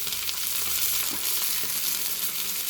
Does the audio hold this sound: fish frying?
yes